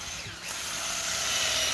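Drilling a slanted hole into a birch tree trunk to tap its sap, a steady, close whirring drill hum that grows louder and holds without pause.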